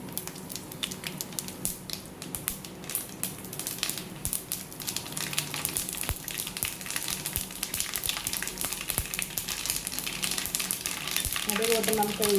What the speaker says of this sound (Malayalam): നമുക്കിനി ഒന്ന് കടുക് ഇട്ട് കൊടുക്കാം